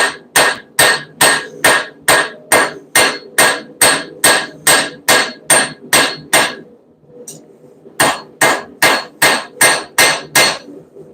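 A 20-ounce ball peen hammer strikes repeatedly in a fast, steady rhythm, loud and close, each blow ringing briefly; a short pause near the middle, then the strikes resume at the same pace, with no talking.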